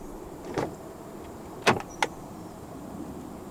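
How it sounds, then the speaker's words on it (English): Frameless windows of a 2023 Volkswagen Arteon 2.0 TSI 4MOTION R-Line dip down as the doors open: three short, quiet whirring and clicking sounds, one brief and two close together, in a calm near setting. "The windows dip down a little bit as you open the doors to clear the door frame."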